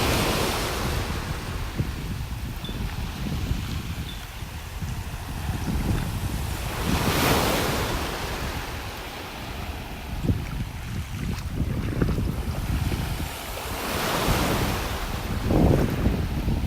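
Ocean waves break and wash up on the beach at the north end of North Naples, Florida, on a morning walk. Surges swell and fade in a steady rhythm under constant wind noise, with no talking.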